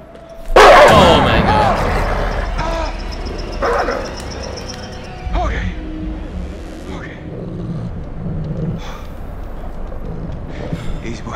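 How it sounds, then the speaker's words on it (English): Dogs in the horror video game Until Dawn bark and yip loudly in a burst, then continue with scattered barks, whimpers and growls over a low rumbling game soundtrack, with someone talking over them. "Oh my, those dogs."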